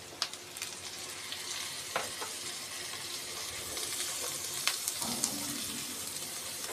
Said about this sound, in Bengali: হালকা ভাজা হয়ে গেলে আমি এর মধ্যে আলুটাও ভেজে নেব।